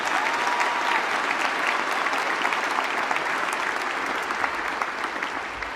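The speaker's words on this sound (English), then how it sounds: "Let's give them one more round of applause and thank them." Sustained applause from a large graduation ceremony crowd, a dense steady patter of clapping that fills the whole stretch without pause.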